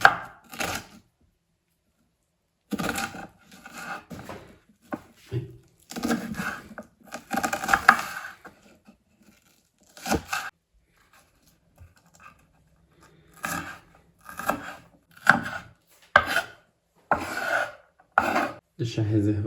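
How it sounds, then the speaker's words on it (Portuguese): A knife chops through an onion on a cutting board in bursts of quick, crisp strokes, broken by pauses, close up and clear with no talking. "vou começar picando a cebola"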